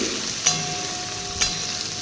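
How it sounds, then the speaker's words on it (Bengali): Onions frying in a pan with cumin, a steady close sizzle with two brief stir scrapes, no voices. "পেঁয়াজটাকে একটু লাল লাল করে ভেজে নেব খুব সুন্দর করে"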